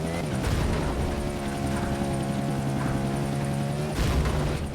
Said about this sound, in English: I am catching up to the chopper.